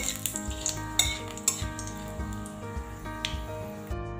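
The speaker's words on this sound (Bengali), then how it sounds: "ভালো করে ভেজে নেব।" Panch phoron spices, dried red chili and a bay leaf frying in mustard oil, a close, crackling sizzle with repeated spatula scrapes and clinks against the pan, and no voices.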